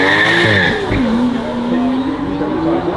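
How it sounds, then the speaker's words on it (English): A high-revving McLaren supercar launches at the Goodwood Festival of Speed, its engine screaming close and loud with a rising, sweeping pitch and a brief tire squeal over crowd noise. "a car with so much power, so high revving"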